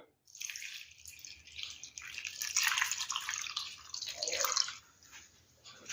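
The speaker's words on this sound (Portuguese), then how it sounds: "E aqui eu vou acrescentar meio litro de água." Half a litre of water poured from close by into a cooking pot that holds pineapple for a homemade syrup. A steady splashing stream runs for about four seconds, rises and falls a little, then stops.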